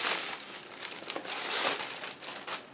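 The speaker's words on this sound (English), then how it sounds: "So, let's get the plastic taken off here." Plastic wrap being pulled off a Blue Yeti Pro microphone box, close crinkling and crackling in quick irregular bursts with no voices.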